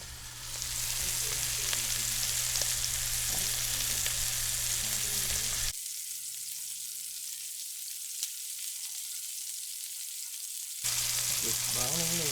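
A bottom round beef roast browns in a hot pan for a classic pot roast, a steady loud sizzle running throughout, briefly dropping quieter in the middle before swelling again.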